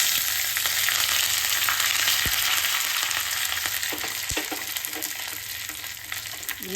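Curry leaves dropped into hot coconut oil with mustard seeds, fenugreek and broken chillies, setting off a loud, close, steady sizzle with scattered sharp pops and crackles that ease slightly toward the end.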